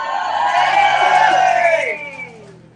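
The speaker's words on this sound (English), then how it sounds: "Can we have a cheer?" Crowd at a teachers' rally in Parliament Square, London, cheering and whooping loudly in a sustained burst of mixed yells that fades out near the end.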